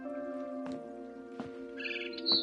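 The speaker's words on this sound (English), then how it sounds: "It was a barn swallow going back to her nest." A barn swallow chirps outside a window in the video game What Remains of Edith Finch, giving a few short, bright calls over a steady musical drone, with no speech.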